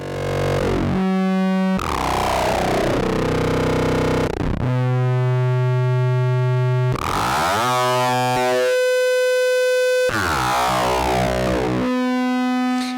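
Heavily distorted modular synthesizer tones built without distortion modules, blending two sources into harsh, buzzing, chainsaw-like sustained notes that shift pitch and timbre in abrupt segments, loud and continuous throughout with no talking.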